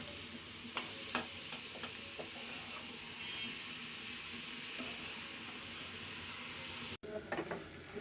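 Cabbage fries quietly in a pan, a soft, continuous sizzle with occasional clinks of stirring and a brief cutout near the end.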